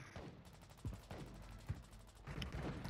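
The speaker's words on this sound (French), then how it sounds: "Ah, ça tire, hein, bâtiment AB." Gunfire in the video game Warzone 2 comes as a string of sharp, rapid shots and short bursts, moderately loud and somewhat distant, over a busy background of game noise.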